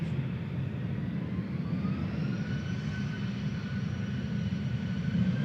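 Aer Lingus airliner at Manchester Airport, a steady low engine roar with a faint rising whine, sustained and fairly distant, no talking.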